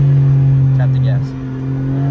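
A tuned BMW engine idles with a steady loud drone, and a brief tap of the throttle makes its pitch rise and fall.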